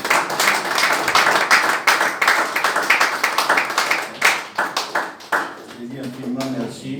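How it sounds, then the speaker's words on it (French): Church congregation clapping together to acclaim God, a dense, steady run of overlapping handclaps that thins toward the end, with voices mixed in and a sung tone rising at the close. "Est-ce que tu peux acclamer Dieu?"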